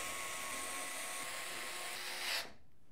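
An electric screwdriver whirs loudly and steadily while driving short radiator screws into a PC case top bracket, a continuous high whine that stops abruptly near the end.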